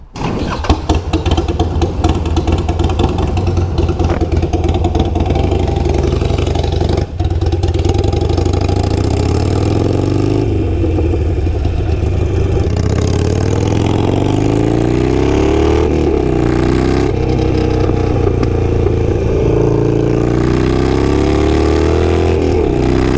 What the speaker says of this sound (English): Something that I really love about this exhaust is the decel.